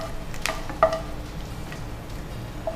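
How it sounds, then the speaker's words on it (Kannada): Five or six garlic cloves fry in a pan until reddened, giving a faint, steady sizzle with an occasional light click of a utensil against the pan. "ಸೊ ಇದು ಕೆಂಪಗಾಗೋವರೆಗೂ ಇದನ್ನು ಹುರಿಬೇಕು"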